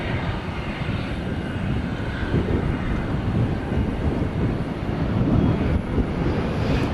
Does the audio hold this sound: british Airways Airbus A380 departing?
yes